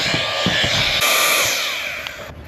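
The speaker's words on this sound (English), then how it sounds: "there must be a little motor here doing like really high RPM" An iRonthunder 3-in-1 handheld air duster and vacuum, driven by a tiny high-RPM motor, whines close up with a bright, airy hiss, cutting out near the end.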